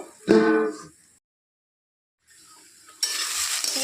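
Taro frying in a pan over low gas heat, a soft hiss of sizzling that starts near the end. Before it come a brief murmuring sound and a stretch of near silence.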